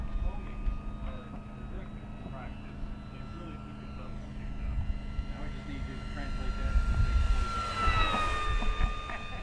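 A BlitzRC Mk24 Supermarine Spitfire 1100mm electric model plane makes an inverted flyby, a steady high motor whine that swells and shifts in pitch as it passes, with outdoor wind noise.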